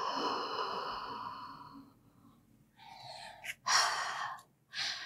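During an at-home Pilates workout, a person takes a long, slow inhale and then a breathy exhale, followed by two more short, audible breaths, heard up close and quiet.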